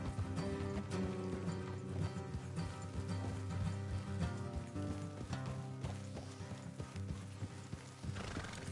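Horse hooves clip-clop in a steady rhythm in Red Dead Redemption 2, loud and close, with neighs and a music bed over several horses riding along a road.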